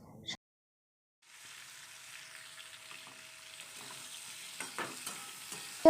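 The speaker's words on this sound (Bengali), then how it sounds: "আলুটা আমি ভেজে তুলে নিচ্ছি" Potatoes frying in a pan give a low, steady sizzle after a brief silence, with a few louder spits and stirring clacks toward the end.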